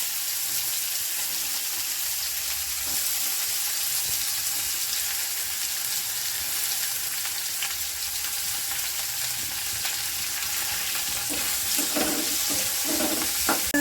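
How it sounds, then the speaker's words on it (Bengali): Cinnamon, a dried red chilli and cumin seeds temper in hot oil, giving a continuous close sizzle with fine crackling, a few stirring clinks and spatters near the end, and no voices. "এবারে এই তেলেই আমি একটু দারচিনি, একটা শুকনো লঙ্কা আর অল্প হাফ চামচ জিরে ফোড়ন দিয়ে দিলাম।"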